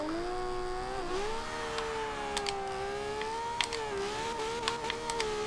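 A Ferrari LaFerrari's 6.3-litre V12 revs in the Forza Horizon 2 racing game, a continuous high engine whine that rises and falls with gear changes, with faint clicks over it.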